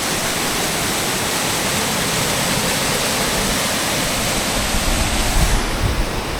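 Waterfall at the start of the Lingya Ghat road, a steady, loud broadband rush of falling water close by that holds constant throughout, with no voices.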